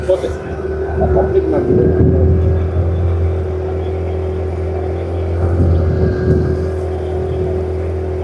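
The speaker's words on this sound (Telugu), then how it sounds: "పడవ ప్రయాణం" A motorboat engine drones steadily at close range on a pond, its pitch swelling slightly now and then, with voices talking over it.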